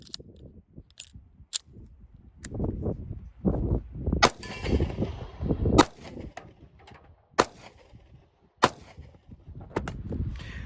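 Pistol shots from a handgun fitted with a ported barrel, suffering repeated failures to extract, ring out as sharp, loud separate cracks spaced a second or more apart, mixed with metallic clanks and handling noise between them.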